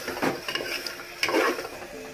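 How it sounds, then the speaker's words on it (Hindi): Masala is stirred and roasted in oil in a pan for an aloo parwal curry, with a spoon scraping and clinking against the metal over a soft sizzle, in short repeated strokes close by. "ये सारे को अच्छे से भूनेंगे।"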